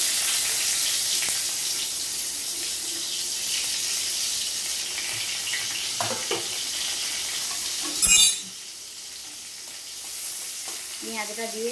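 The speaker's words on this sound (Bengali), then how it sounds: "আলুটাকে আমি একদিকে সরিয়ে দিয়েছি, দিয়ে ওই তেলে পেঁয়াজটা দিয়ে দিই" Onion frying in oil beside already-fried potato for a chira tiffin dish, with a constant sizzle, scraping stirs, a sharp clatter near the middle and a faint watery trickle toward the end.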